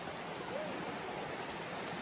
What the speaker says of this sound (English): Puzzling through a water crossing right now.